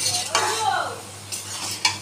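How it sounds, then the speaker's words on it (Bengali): A metal lid comes off a cooking pot of prawns with banana flower, giving a few bright clinks and scrapes close by over a soft background sizzle. "এবারে আমি ঢাকনাটা খুলছি"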